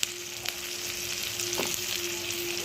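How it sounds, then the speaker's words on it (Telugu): Cauliflower florets fry with curry leaves in a pan, a continuous close sizzle with occasional stirring clinks and a faint steady hum beneath. "ఇప్పుడు మనం ఇలా పువ్వులా పెద్ద పెద్ద పువ్వుల్లాగా మనం చేసి పెట్టుకున్న కాలీఫ్లవర్ని వేసేసుకోవాలి"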